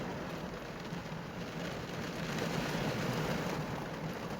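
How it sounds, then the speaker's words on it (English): Heavy rain pouring down in sheets on a parked Toyota 4Runner van during overlanding in Nova Scotia, a steady dense hiss and patter heard from inside the vehicle, swelling slightly midway. "I didn't really think it was going to rain today, then all of a sudden it just starts dumping down in sheets"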